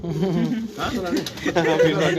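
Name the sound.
pigeons cooing on a rooftop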